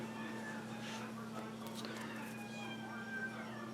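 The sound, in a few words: cat meowing in the hallway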